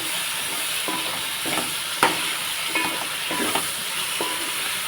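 Prawns with gongura stirred and frying in a pan, a steady sizzle with scattered scraping stir strokes and one sharper knock, close and continuous with no talk.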